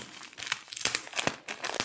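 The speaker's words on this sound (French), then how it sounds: "une pochette à bulles, ça c'est parfait" Crisp crinkling and rustling of a padded bubble mailer being handled, in quick irregular bursts close by.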